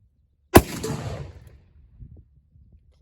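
A single sharp gunshot from a .45 Colt revolver loaded with Hodgdon 777 black powder substitute, fired outdoors, with a short booming decay and faint rumble afterward; no talking.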